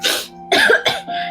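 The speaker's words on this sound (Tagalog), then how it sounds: "inuubo po kayo" A person coughs in three loud, harsh bursts close to the microphone, each with a brief gap between, and the last one trails off into a throaty clearing sound.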